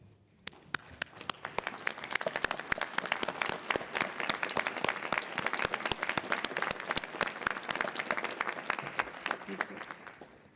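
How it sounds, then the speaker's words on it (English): Sustained applause from a large audience of faculty and staff at a university doctoral hooding ceremony, dense steady clapping that swells and holds for about ten seconds before tapering slightly. "please rise and join me in giving our graduates a round of applause"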